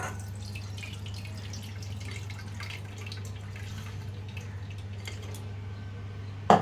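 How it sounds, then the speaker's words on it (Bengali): Flour dough is washed under running water, with a steady low stream and scattered soft drips and splashes, then a brief clatter near the end. "এই জলটাকে ধুয়ে ফেলবো"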